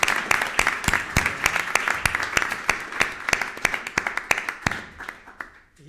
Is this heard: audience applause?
yes